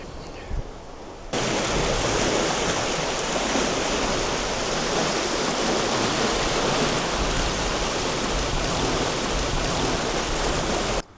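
Water in a canal in Utrecht, the former Vecht river, pours and rushes in a loud, steady wash that starts abruptly after a quiet second and runs unbroken to the end.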